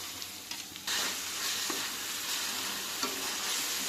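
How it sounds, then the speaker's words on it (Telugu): Soaked moong dal sizzles in hot oil in a pan for a Telugu ridge gourd curry with onion and green chilli, a steady frying hiss that swells as the dal goes in, with faint stirring scrapes and no talk. "కొంచెం ఇట్లా నూనెలో ఫ్రై చేసుకుంటే చాలా కమ్మగా ఉంటుంది."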